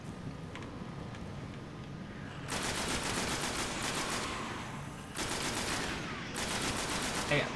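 Sustained automatic gunfire from enemy shooting in the video game Destiny, loud rapid bursts in two long stretches with a brief pause between, over constant background game noise.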